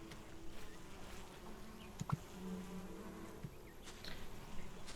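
Bees buzz in the Solarpunk video game, a soft continuous insect drone with a few faint clicks and a brief tonal chirp, quiet and unaccompanied by voices.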